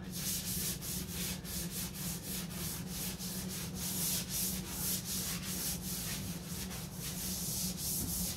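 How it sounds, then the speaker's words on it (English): A 1969 Corvette C3 hood is wet sanded by hand in steady back-and-forth strokes, a close, rhythmic rasping rub that runs continuously with no voices. "I just wanted to wet sand it just to make sure I'm getting everything."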